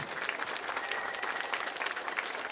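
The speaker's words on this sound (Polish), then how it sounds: "Panie i panowie, ogromne brawa dla nich!" Audience applause at a jubilee concert for a cement works brass band in Chełm, dense, even clapping from a large crowd sustained without a break.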